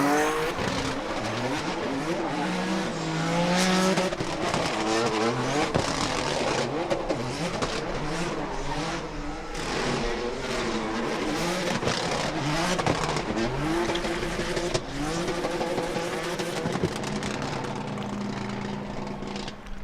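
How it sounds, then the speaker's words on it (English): Toyota GR86 Formula Drift pro car fitted with a turbo V6 from a Tacoma/FJ Cruiser, running a competition drift; a loud, continuous engine howl with rising and falling revs and tire squeal throughout, no talk. "So this is out of Tacoma, an FJ Cruiser, that V6 engine, and I think it sounds really unique."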